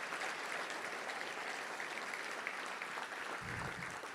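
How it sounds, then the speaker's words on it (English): Applause from a Touchdown Club luncheon audience in Little Rock, a steady, fairly faint wash of many hands clapping throughout. "let's give a round of applause to all those wonderful folks who we'll miss"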